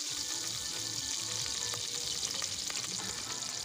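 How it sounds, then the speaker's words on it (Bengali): Ginger paste fries in hot oil for khichdi, a steady, dense close-up sizzle that holds evenly throughout with faint stirring. "এবারে আমি তেল দিয়ে দিচ্ছি, এবারে আমি আদা বাটা দিয়ে দেব"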